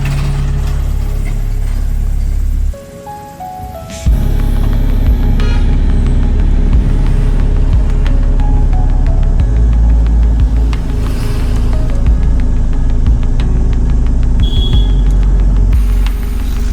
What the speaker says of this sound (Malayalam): ഇപ്പോഴാണ് ശരിക്കും വണ്ടി പോകുന്നത്.